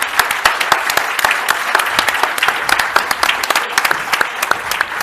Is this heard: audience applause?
yes